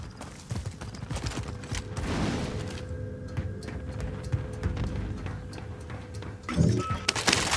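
Rapid gunfire crackles in a Call of Duty: Warzone match, dense bursts of shots and impacts at mid distance, with louder reports near the end.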